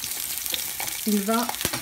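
Sea bass laid skin-down in hot olive oil in a pan, giving a soft, steady sizzle with small crackles and a brief tonal scrape, heard up close without talk.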